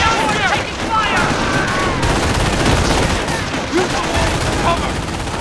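Dense gunfire and explosions fill a World War II battle in the video game Company of Heroes, with rapid machine-gun bursts and rifle shots crackling continuously while soldiers shout.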